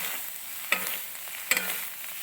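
Clam meat roasting in a pan is stirred with two spoons, a steady close sizzle broken by two sharp spoon scrapes against the pan, with no talking.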